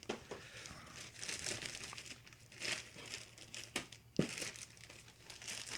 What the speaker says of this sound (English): They have like a kind of a satin finish plastic bag here.